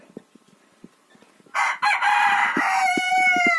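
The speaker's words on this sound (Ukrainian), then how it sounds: "Ой, гарний півничок такий." A rooster crows loudly among a backyard flock of chickens, a long strained call rising out of soft clucks and scratching, followed by more drawn-out crowing nearby.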